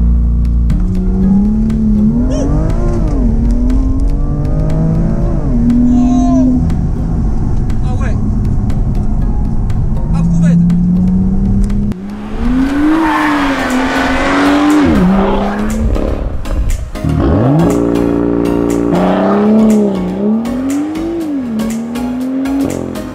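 A supercar launches hard under launch control in Monaco, its engine revving up through rising, loud sweeps with brief tire squeal, repeated in a few surges over the clip, with people talking over it.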